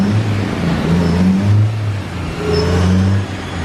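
A Honda S2000 engine with a re-circulation mod revs with the gas partly pressed, giving a loud, steady mid-pitched drone that swells and eases slightly across a few seconds.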